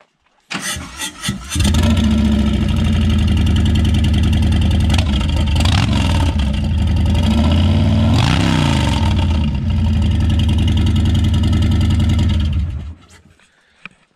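A Harley-Davidson Heritage Classic motorcycle fitted with Vance & Hines exhaust starts up and idles with a loud, steady, raspy rumble, blipping the throttle in short revs, close by, with no talk.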